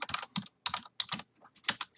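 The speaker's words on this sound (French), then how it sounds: "le clavier qui s'emballe" Rapid bursts of computer keyboard typing, keys clicking in quick irregular clusters with short pauses between, close and crisp.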